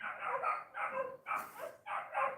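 Dogs bark in a series of four fairly loud, close barks with short gaps between them. No voices or other sounds are heard around them.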